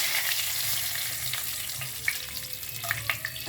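Dried red chilies and bay leaves hit hot oil with a steady close sizzle and frying hiss, a few sharp pops and crackles standing out near the end.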